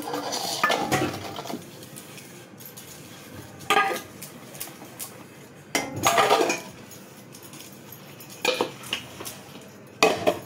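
Bronze (kansa) dishes and utensils being scrubbed and washed, with scattered clinks and clatters of metal against metal in irregular bursts, near and moderately loud, with no talking.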